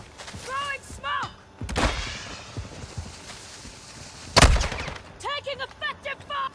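Video game gunfire: a couple of loud, sharp bursts of shots ring out amid battle noise, while radio-style voice callouts chirp between them.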